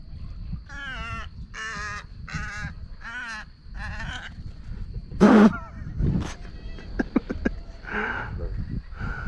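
On a foggy Florida duck hunt, a bird gives a run of harsh, nasal calls in quick succession, fairly close and loud, followed by scattered rustles and knocks outdoors.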